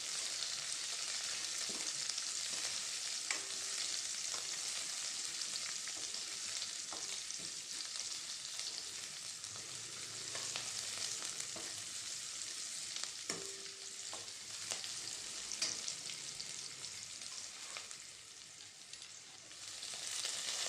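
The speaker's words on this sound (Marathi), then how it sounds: "कांदा थोडा परतून घेऊया." Onion sautéing in oil in a pan for a Vidarbha-style methi dahi pithla, a steady close hiss of frying with occasional soft stirring scrapes, continuous and even throughout with no voices.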